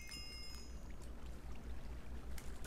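Continuous flowing water from a Minecraft game world, a steady wash of noise with a low rumble underneath, fairly close and unbroken, with no voices.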